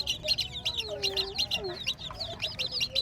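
Young chicks in a coop give a dense stream of high, rapid peeping chirps with overlapping calls and a few lower clucking notes, steady and close throughout.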